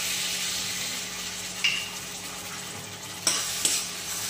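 Ginger garlic paste sautéing in hot oil in a kadhai, a steady close sizzle with a few sharp scrapes and taps of a stirring spoon against the pan.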